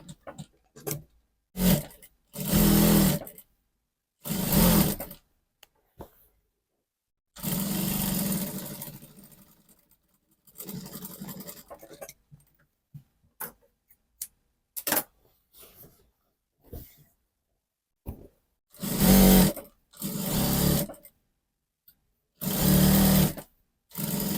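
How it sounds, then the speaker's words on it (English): A sewing machine stitches the side seam of a blouse in short, loud bursts of whirring separated by silent pauses, with several longer runs spread across the stretch. "when you get to where your notching is, you're going to backstitch and stop"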